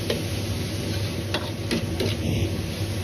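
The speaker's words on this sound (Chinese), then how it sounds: "翻炒幾下後，倒入切好的辣椒" King oyster mushrooms and chili stir-fry in a wok: a loud, steady hiss of frying with a few quick spatula scrapes and taps, close up, and no talking.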